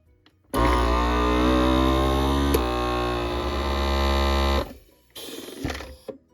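A vacuum sealer pump drones steadily and loudly for about four seconds while drawing air from a jar, then cuts off, followed by a few quieter mechanical noises.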